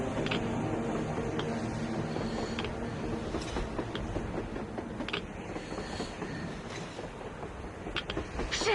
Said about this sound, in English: A train! A damn train on the surface!